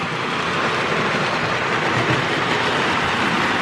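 A Lionel "The General" model train rumbles steadily along its track, a continuous clattering whir of small wheels that stays loud and close throughout.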